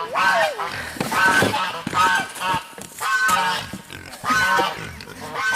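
Pigs on a farm, fed on donated produce, letting out repeated honking grunts and squeals in uneven bursts, close and fairly loud.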